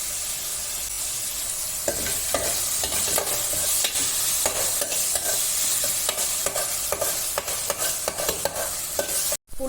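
Sliced onions, salted, sauté in a pan with steady sizzling and frequent scraping stir strokes, close and fairly loud throughout, ending abruptly.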